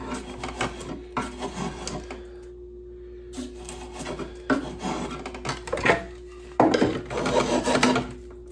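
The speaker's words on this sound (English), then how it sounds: "it just seems like drawknife starts to work so much better" A drawknife shaves rived hardwood for an axe handle. The strokes come as bursts of dry, scraping rasps with short pauses between them, close and moderately loud, and there is no talking.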